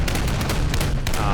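Rapid 25mm cannon fire from an infantry fighting vehicle in a video game depicting a Chinese invasion of Taiwan, a dense, continuous stream of loud, close shots with a low rumble underneath.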